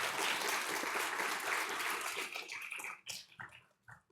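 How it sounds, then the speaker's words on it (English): Audience at the opening remarks of a Hong Kong green finance event breaking into a big round of applause, dense and sustained for about three seconds before thinning into a few scattered final claps. "let me suggest that we give them a big round of applause"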